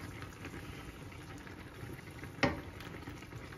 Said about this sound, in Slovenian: I sad to fino izmiješate i pustite da malo prokrčka i sos vam je gotov za makarone